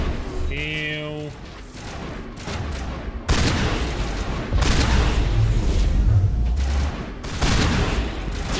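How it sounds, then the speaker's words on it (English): Enemy gunfire in the video game Mass Effect 1 Legendary Edition on hardcore difficulty: loud, dense bursts of shots and booms continue for about five seconds after a stretch of speech and game sound. "Damn, they can shoot very well."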